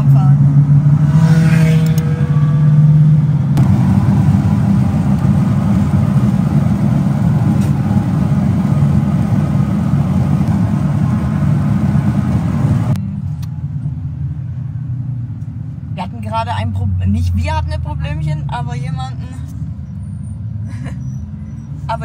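A BMW M4 drives a tire warm-up lap at the Nürburgring, its engine a loud steady rumble heard from inside for most of the lap before dropping lower, with people talking over it.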